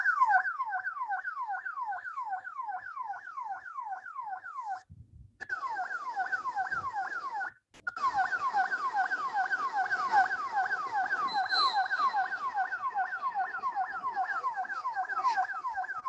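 A police drone sounds a rapid warbling electronic siren, repeating continuously at a moderate distance over a police ground, with two brief dropouts and faint background noise.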